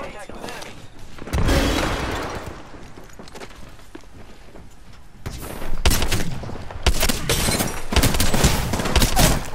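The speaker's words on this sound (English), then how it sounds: "Opening fire on the enemy." Bursts of gunfire in a squad battle royale-style video game firefight, with heavy volleys near the start and later, broken by shorter shots and a grenade-filled skirmish; voices talk over the action.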